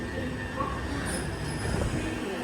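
A train rolls through London with a steady, loud rumble of wheels on rail and a faint high squeal, continuous and close, with no talk over it.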